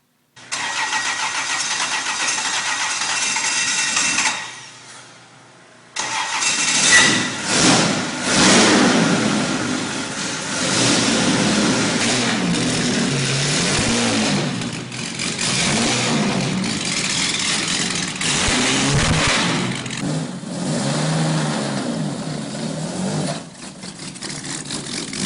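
A Jaguar E-Type's engine cranks and catches with a broad roar, falls silent briefly, then restarts and runs loud and close with revving surges that settle toward a rough idle, with no speech.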